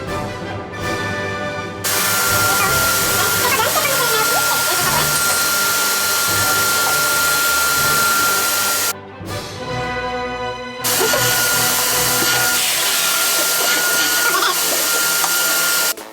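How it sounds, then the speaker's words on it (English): An electric drill bores into a wall while a curtain rail goes up, a loud steady motor whine running almost the whole time with a short break partway through and no talking. "place it there so that you know when to stop drilling while drilling"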